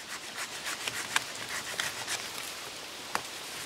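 A Fiskars SW-75 hand saw works through wood outdoors on a lakeside camping trip, giving soft rasping strokes in a loose rhythm with a few sharp clicks, heard alone without talk.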